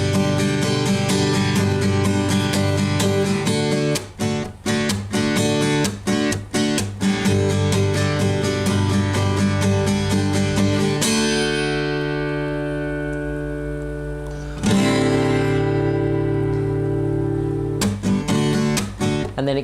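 Guitar plays the second part of a song, starting with choppy rhythmic strums, then a long sustained chord that rings and fades before the strumming resumes, close and alone.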